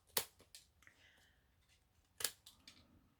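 Sharp scissors trim paper for a handmade card craft, making two quiet, crisp snips about two seconds apart with faint paper rustling in between.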